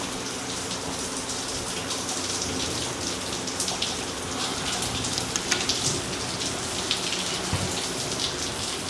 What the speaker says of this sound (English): rainy day here in Florida.